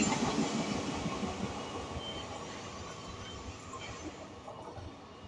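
Steady rumble and clatter of a train running on rails, heard from inside a carriage, continuous and fairly loud throughout with faint wheel clicks.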